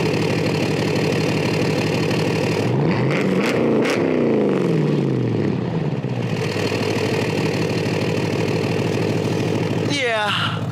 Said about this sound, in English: I told y'all I'd let y'all hear my car.